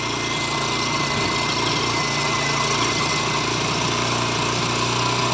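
TVS Apache BS4 motorcycle with a misfiring problem at low speed idles steadily close by, a continuous buzzing engine drone with slight irregular flutter and no voices.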